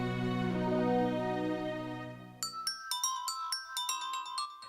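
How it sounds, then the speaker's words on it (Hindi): An electronic phone ringtone in a Hindi-dubbed film plays, a sustained tonal melody that shifts into a quick series of bright, repeating chimes. "रिंग बज रही है"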